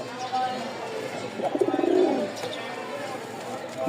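A Rajshahi Giribaz tumbler pigeon coos in a brief, close, throaty warble, a rolling pulsing call over low background noise and faint voices.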